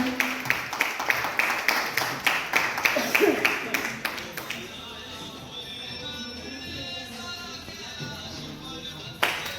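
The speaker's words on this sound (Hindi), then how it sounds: "दोस्तों तालियों की गड़गड़ाहट कम नहीं होनी चाहिए" Clapping for women being honoured at a public felicitation ceremony, loud rhythmic claps in the first four seconds, then fading into murmur and background talk, with a final burst at the end.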